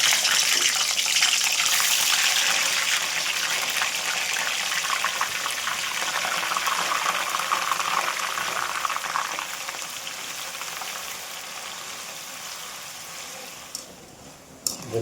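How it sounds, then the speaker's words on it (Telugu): Cubes of paneer fry in hot oil with a dense, steady hiss and crackle that slowly softens over the stretch, then a brief clatter at the end. "ఇప్పుడు మనం కట్ చేసి పెట్టుకున్నటువంటి పన్నీర్ను మనం ఆయిల్లో వేసుకొని వేపుకోవాలి."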